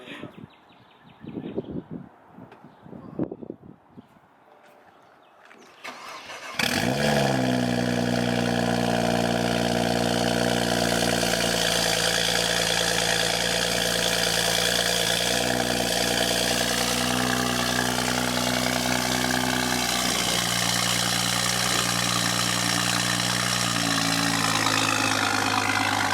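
BMW 335i engine cranks and catches after a few quiet seconds of background noise, then settles into a steady, loud idle that continues unbroken to the end.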